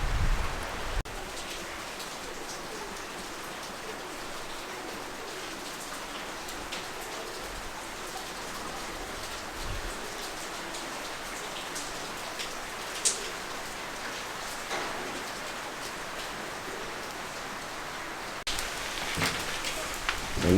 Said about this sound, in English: And look at that rain.